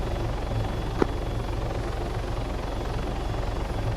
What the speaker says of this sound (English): Scratched out, the helicopter's on the deck.